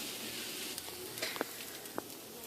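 Beans for a vegetarian sloppy joe, seasoned with garlic and onion powder, sauté in a pan with a faint steady sizzle and a few soft clicks of a utensil moving through them.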